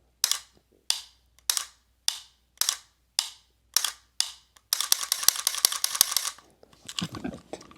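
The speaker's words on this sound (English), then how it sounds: "When I break, you hear that, the laser went off, and it resets the trigger." AR-15 trigger fitted with a MantisX Blackbeard dry fire trainer, giving a string of seven sharp, evenly spaced clicks of trigger break and reset, followed by a denser burst of rapid mechanical clicking and rattling, close and clear.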